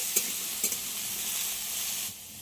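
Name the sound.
potatoes frying and being stirred in a pan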